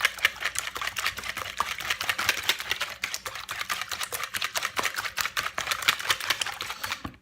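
Whisk beating keto breakfast casserole ingredients in a bowl, a rapid, steady run of bright clicking taps against the bowl, close and continuous without talking.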